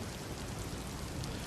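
Heavy monsoon rain in Banaskantha, Gujarat, a dense steady hiss of falling water throughout, even and unbroken with no voices.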